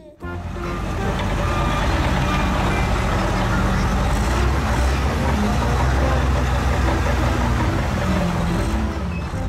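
A toy sand truck's reversing beeps sound alongside a steady engine rumble, continuous and fairly loud throughout.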